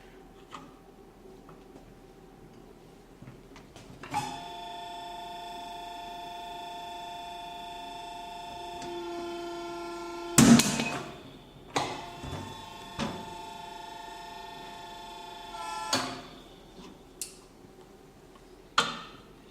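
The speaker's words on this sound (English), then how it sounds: "the die is fixed, and we can directly punch the next hole" An ALFRA AP600-2 punching machine with a fixed die punches holes in a workpiece: a steady whining hum runs underneath a series of sharp, loud mechanical punches and clunks that come at irregular intervals.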